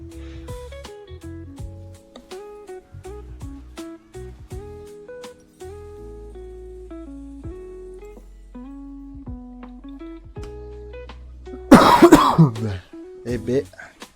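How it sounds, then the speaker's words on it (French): A single burst of coughing near the microphone breaks in toward the end, loud against a backdrop of melodic game music and sound effects from a League of Legends ARAM match. "qu'est-ce qu'on tousse sur cette partie?"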